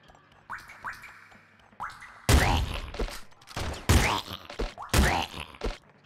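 Bursts of video-game gunfire from Nuclear Throne in sharp, loud volleys, with separate shots and thuds between them and short springy effects early on.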